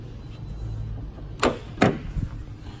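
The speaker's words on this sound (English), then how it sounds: "So we're gonna go ahead and pop the hood open." The hood of a 2015 Ford F-150 pickup is popped open: two sharp metallic clicks in quick succession, followed by a softer clunk, with low background rumble.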